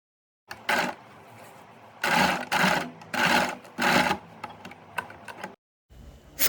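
A sewing machine stitches a blouse in about five short, loud whirring bursts separated by pauses, with quieter handling clicks in between and no voices.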